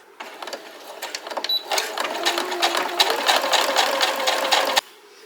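A sewing machine stitches a lanyard at a 1/8-inch seam allowance, running in close, loud bursts of rapid clatter for several seconds before stopping abruptly.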